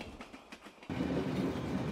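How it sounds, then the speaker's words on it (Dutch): A freight train passes near Westerpark in Amsterdam, starting with a few rhythmic clicks before a sudden loud, steady rumble of wheels and cars rolling past close by. "De machinisten van de Intercity zien een goederentrein passeren als deze trein de wissels heeft vrijgemaakt"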